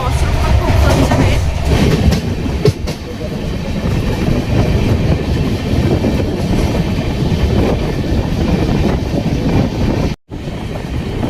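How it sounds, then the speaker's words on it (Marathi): An old Indian passenger train from the British era rolling along rails, a loud steady rumble with rhythmic clickety-clack and wind buffeting heard from inside the carriage, briefly cutting out near the end. "ही रेल्वे खूप जुनी 1989ची रेल्वे आहे, ब्रिटिशांच्या काळातली"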